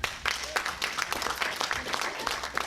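A comedy club audience applauds, clapping fairly loudly and steadily for a couple of seconds.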